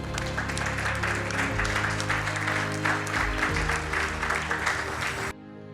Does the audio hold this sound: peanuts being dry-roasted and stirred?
no